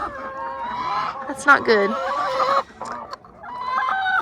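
Backyard flock of about sixty chickens clucking and squawking close by, a busy run of overlapping calls with a louder burst midway, while a person speaks briefly over them.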